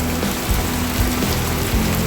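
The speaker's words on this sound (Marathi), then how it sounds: "तर बघू शकता जबरदस्त पाऊस चालू झालेला आता." Heavy, wind-driven rain pours down hard near a house, a loud, constant roar with faint low thuds underneath and no talking.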